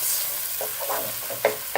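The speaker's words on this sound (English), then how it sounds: "You can hear the sizzle." Soft steady sizzle of masala spice powders frying in a pan for Bangladeshi chicken curry, with a few scraping stirs and light taps of a utensil against the pan.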